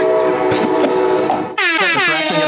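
A train horn blares in the background, entering after a stretch of rumbling noise and sounding as a loud, sustained multi-tone blast to the end.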